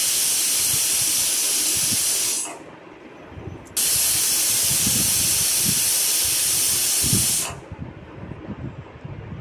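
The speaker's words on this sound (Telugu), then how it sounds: "కుక్కర్కు మూత పెట్టేసి హై ఫ్లేమ్లో పెట్టి 2 విజిల్స్ వచ్చేంత వరకు ఉడికించుకోవాలి" A pressure cooker on high flame cooking tomato rice lets off loud, steady hissing steam. The hiss runs in two long bursts, broken by a short near-silent gap and then a quieter stretch.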